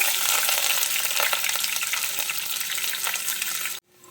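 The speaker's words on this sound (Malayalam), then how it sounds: "എണ്ണ ചൂടായ ശേഷം നമ്മൾ നേരത്തെ അരിഞ്ഞ് വെച്ചിരുന്ന ആ വെളുത്തുള്ളിയും പച്ചമുളകും ഇല്ലേ, അത് ആദ്യം നമുക്ക് ഇതിലേക്ക് ചേർത്ത് കൊടുക്കാം" Chopped garlic and green chilies fry in hot oil for a soy chunks chilli, making a loud, dense, continuous sizzle close up that cuts off abruptly near the end, leaving near silence.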